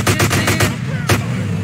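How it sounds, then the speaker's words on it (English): Pistol gunfire in GTA San Andreas: a fast burst of about five sharp shots, a short pause, then one more close, loud shot. "I'm gonna use my pistol because I wanna get a dual pistol."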